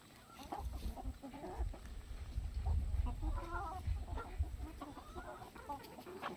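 A flock of turkeys outdoors gives soft, low clucks and chirring calls, several overlapping birds close by at modest volume, with faint background hiss and no talking.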